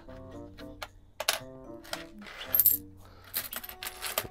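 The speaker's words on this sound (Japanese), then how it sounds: "小銭を数える放送だよ。" Coins being counted by hand, a run of metallic clinks and jingles as they drop and slide against each other, close and irregular.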